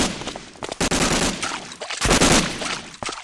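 Gunfire in the World War II shooter Medal of Honor: Allied Assault comes as loud, close bursts of shots with short gaps between them. A sharp crack near the start leads into dense volleys that fade toward the end.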